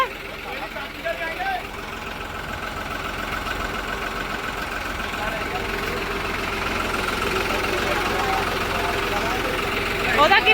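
A motor idles steadily for about ten seconds, a close, low, rumbling chug that grows slightly louder toward the end, with faint voices in the background.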